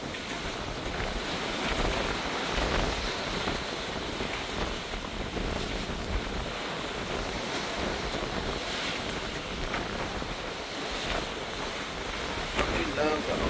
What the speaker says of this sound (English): We love the ocean.